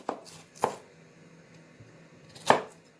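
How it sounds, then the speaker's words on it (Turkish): Three sharp knife chops on a board, spaced unevenly with quiet gaps between, the last one the loudest. "Bu şekilde hepsini doğrayacağım."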